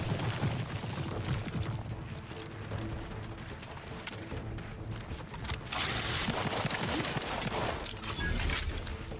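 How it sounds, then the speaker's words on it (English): Enemy gunfire rattles through a firefight in The Outer Worlds 2, bursts of shots and crackling impacts layered over rumbling combat noise, growing denser and louder toward the end. "No, no, no, that guy's shooting at me."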